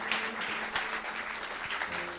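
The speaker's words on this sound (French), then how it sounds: "Nous acclamons pour le Seigneur." A congregation at a church testimony service applauds for the Lord, with steady broadband clapping held throughout at moderate loudness and no speech.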